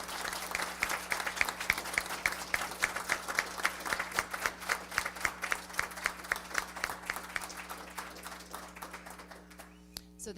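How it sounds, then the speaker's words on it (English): An audience applauds candidates at a state house district forum, a steady burst of clapping from a small crowd, moderately close, that holds for several seconds and tapers off near the end. "can we get a round of applause for your candidates"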